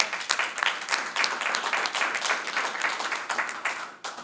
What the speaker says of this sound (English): Let's give ABB one more round of applause.